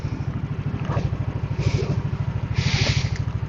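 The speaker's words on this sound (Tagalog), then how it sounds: "So naka-scooter ulit tayo, naka-Aerox." A Yamaha Aerox scooter engine runs steadily throughout, a close, even low pulsing with a slight rising whir at times, heard while setting out on a moto-camping ride to Camp Sitio Tangal in Palauig, Zambales.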